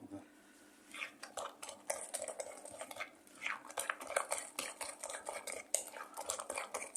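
Rapid metallic clinking and scraping of a utensil whisking potato pancake batter in a bowl, steady and busy throughout, close by, with no talking.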